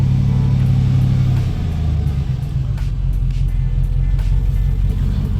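A cold project truck's engine idling with a steady low rumble, loud and close, settling slightly after the first second and running on alone.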